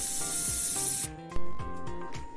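Burger buns toast in butter in a hot pan, giving a loud, bright sizzle for about a second. Scraping and rustling follow as the pan is worked, with a sharp bump partway through.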